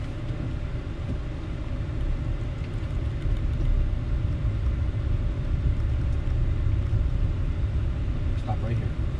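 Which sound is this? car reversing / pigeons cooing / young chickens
car reversing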